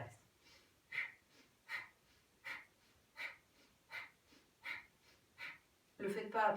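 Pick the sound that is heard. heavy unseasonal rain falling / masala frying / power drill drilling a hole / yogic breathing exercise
yogic breathing exercise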